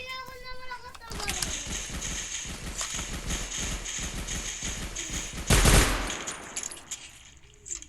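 In Minecraft, a rapid run of sharp gunfire shots fires in steady bursts over game sounds, with a loud blast near the middle, while players talk and call out over it.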